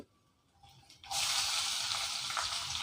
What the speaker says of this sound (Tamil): இப்போ இதையே நல்லா மிக்ஸ் பண்ணிக்கிறோம்.